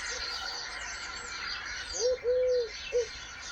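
A collared dove coos in the background of a period film soundtrack, three soft calls in quick succession set against a faint, breathy ambient bed.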